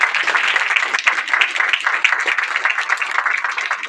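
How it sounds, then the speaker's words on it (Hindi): An audience at a New Year programme at an Om Shanti centre claps steadily for Sita, a dense, even patter of many hands that holds for several seconds without a break. "जरा सीता बहन के लिए जोरदार ताली।"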